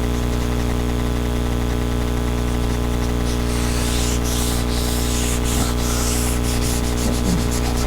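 Sandpaper at 600 grit rubbed over a car body in final prep for paint, a steady close abrasive rubbing that runs continuously with rhythmic strokes, with no talking.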